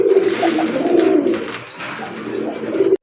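Several pigeons coo in low, rolling phrases that repeat and overlap steadily throughout, close by, over a soft broadband hiss from a pigeon sale loft with grizzle and other domestic and foreign breeds; no one speaks.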